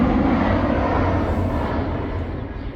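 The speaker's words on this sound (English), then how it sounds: "there's a plane going over. You can't see it." Airplane passing overhead on a flight path near O'Hare airport, heard outdoors as a steady, broad roar that holds at a fairly even level for the whole stretch without voices.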